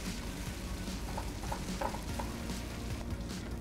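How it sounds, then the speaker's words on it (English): Egg mixture stirred continuously in a hot pan, soft scraping strokes and light sizzling at a quiet, close level, with no talking. "And then you wanna just add your egg mixture and continuously stir"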